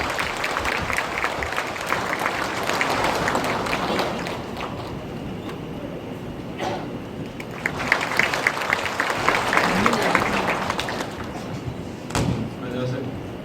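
Steady applause from an audience at a high school admissions briefing, a dense hall-filling patter lasting throughout with a few louder thumps, and no talk over it.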